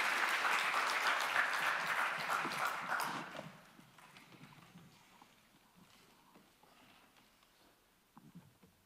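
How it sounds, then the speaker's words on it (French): A conference audience at a round-table panel claps loudly for the speakers; the applause tapers off after a few seconds into faint scattered claps and room noise. "Vous pouvez les applaudir."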